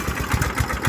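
A small engine on full choke with the throttle open, sputtering and chugging unevenly in short low bursts close by, with no voices.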